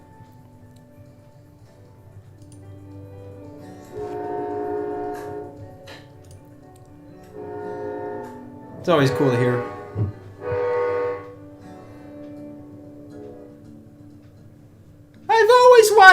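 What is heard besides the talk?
train horn blasts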